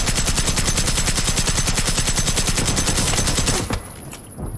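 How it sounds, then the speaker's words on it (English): Sustained automatic gunfire in Generation Zero rattles in a dense, rapid, loud stream for several seconds, then cuts off and leaves a quieter ringing tail. "We fired many, many rounds."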